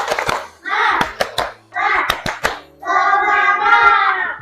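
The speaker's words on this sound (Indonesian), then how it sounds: "mari kita tepuk semangat dulu" Schoolchildren in a classroom doing a rhythmic Indonesian spirit clap, sharp clustered handclaps in patterned bursts alternating with loud chanted voices.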